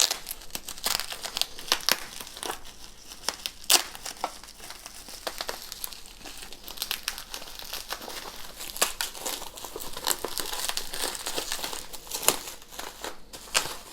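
Continuous close crinkling and tearing of plastic wrap as a manga parcel is opened, a steady dense rustle with frequent sharp crackles throughout.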